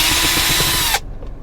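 Small screw being unscrewed from the cover of an Android car player, a dense steady whirring drill-like buzz with faint ratchet ticks that cuts off abruptly near the end, no talking.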